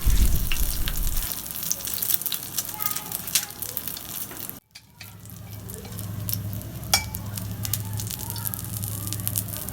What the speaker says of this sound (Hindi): और इन स्लाइसेस को अच्छी तरह फ्राई कर लेंगे।